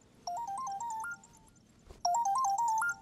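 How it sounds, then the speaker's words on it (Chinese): A phone ringtone plays a bright stepped electronic melody in two loud bursts separated by a short pause, with no talking over it. "电话。"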